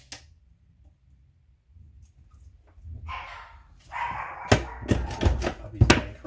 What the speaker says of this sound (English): Puppy's going crazy.